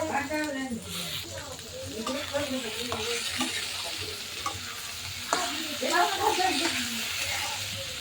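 Chopped vegetables and tomato sizzle in hot oil in a pan for pasta, a steady close frying hiss broken by stirring scrapes, while a voice talks over the cooking throughout.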